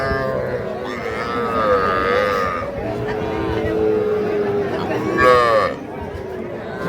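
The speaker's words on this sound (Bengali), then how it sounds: "এটা কিন্তু ষাঁড় বাচ্চা।" A young bull calf at a busy village cattle market lets out a few drawn-out moos, loud and close, over a background of crowd chatter and people talking.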